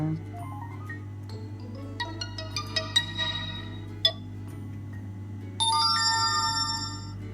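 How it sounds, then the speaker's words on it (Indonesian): The default notification tone of an Asus Zenfone Live L1 X00RD smartphone plays as a series of clear chiming, bell-like notes, ending in a sustained bright ring over a low steady hum. "Untuk notifikasi defaultnya kita akan coba"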